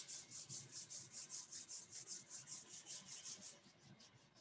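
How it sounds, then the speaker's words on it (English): Palms rubbed together during a meditation, a soft, steady, rhythmic swishing of about twenty even strokes, quiet and close with no voice. "Rub your hands"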